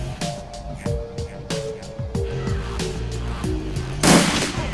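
Shotgun blast in the video game Shadowrun Returns, a sharp burst near the end heard over a game's layered background music and effects.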